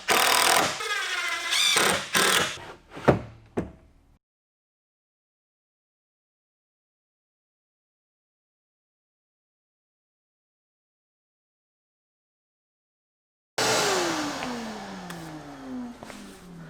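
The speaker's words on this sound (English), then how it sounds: "I'm loving this miter saw station." A miter saw cutting wood pieces for desk legs at a saw station, heard as two separate bursts: a whining cut and blade spin-down at the start, a long silence, then another cut with a falling motor whine near the end.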